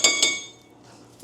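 Sticky cooked rice stirred with garlic in a bowl for onigiri: two quick bright clinks of a utensil against the bowl, a quiet pause, then a duller knock at the end.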